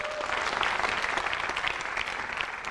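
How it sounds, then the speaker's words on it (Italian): Studio audience clapping for a Sicilian singer on a 2010 Italian variety show, a dense, steady wash of applause held at even loudness throughout, with no voices over it. "goditi l'applauso intanto che è siciliano"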